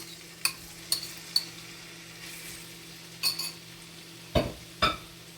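Shrimp for fried rice fries in a pan, a low sizzle under a steady hum, broken by about six sharp clinks and scrapes of a utensil against the pan.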